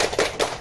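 Two sharp, loud hand claps in quick succession by a school class, close by, with a short pause between them.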